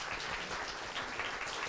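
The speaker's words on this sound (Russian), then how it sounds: "Аплодисменты нашим спикерам." Brief burst of audience applause at a political debate event, many people clapping in a dense, steady patter at moderate distance, no voices over it.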